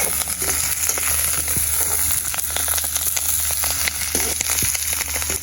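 Prawn masala fries and sautés in a pan with a steady dense sizzle and crackle, broken by frequent sharp ladle taps, close and continuous with no talk.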